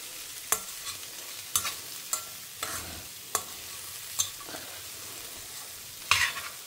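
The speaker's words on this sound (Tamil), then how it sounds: "நான் இப்போ எடுத்து வச்சுருந்த தேங்காவை இதோடு ஆட் பண்ணிக்கிறேன். தேங்காய் போட்டு ரொம்ப நேரம் வதக்க வேண்டாம்." Grated coconut and chayote sauté in a pan with a soft sizzle, punctuated by a series of sharp spoon scrapes and taps against the pan at irregular intervals.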